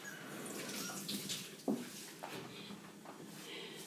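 Tap water runs into a bowl or sink while wild strawberries are rinsed by hand, a steady moderate splashing stream with a few soft clunks and brief drips.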